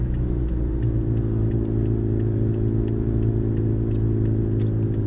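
A car drives along at steady speed, its engine a continuous low rumble with constant road noise and no voices.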